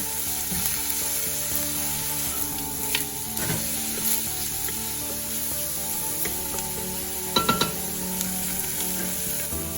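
Steady sizzling of onions frying in a pan, a constant crackling hiss with a couple of brief clinks or stirs partway through.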